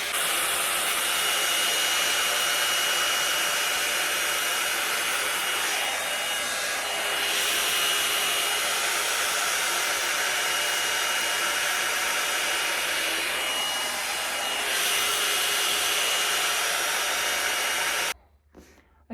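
A hair dryer brush blows with a steady loud whoosh for most of the clip, its airflow briefly shifting twice, then cutting off near the end.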